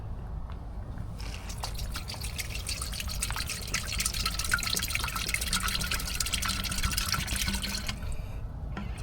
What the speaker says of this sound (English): And then we're going to pour brake fluid in here.